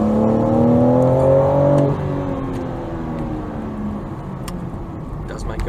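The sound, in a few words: 2022 BMW M4 Competition Convertible engine accelerating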